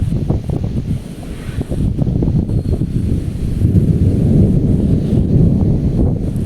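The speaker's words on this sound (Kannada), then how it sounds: "ಸುಮ್ಮನೆ ಗಾಳಿ ಧೂಳು ಎದ್ದತಿ" Strong wind blows on a hot day, kicking up dust as rain threatens, a loud continuous rushing roar buffeting the microphone throughout, no voices.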